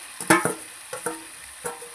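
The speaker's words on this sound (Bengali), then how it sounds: "এবার আমি এর মধ্যে চিকেনটা দিয়ে দেবো।" Pieces of chicken dropped into oil-rich curry gravy in a pan, giving a few short bursts of sizzling and stirring clatter separated by quieter frying, with no talk.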